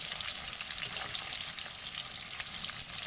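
Shrimp coated in flour frying in hot oil in a pan over a gas stove burner, a steady close, dense crackling sizzle that continues evenly throughout without pause.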